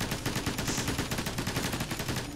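Rapid, dense automatic gunfire rattles without a break in the video game Ghost Recon Advanced Warfighter 2, loud and continuous throughout.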